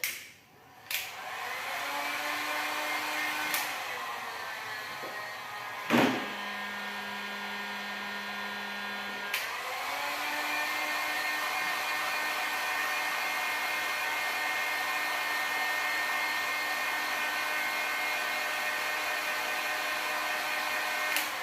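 A hot air heat gun drying a second layer of glue on a handmade external lift for adaptive road cycling: a steady, close whirring blower hum with brief clicks as it switches on and off.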